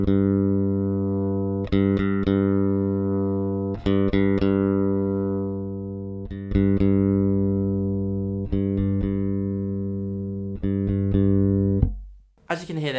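Clean electric bass notes from a Sadowsky UV70 Metroline Jazz Bass with a bright, treble-boosted tone, played in a slow phrase of sustained notes, close and alone.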